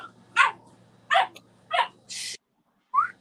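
Dogs bark in the background: four sharp barks at a steady, separated rhythm, then a brief burst of noise and a final higher yelp, moderately loud against a quiet room.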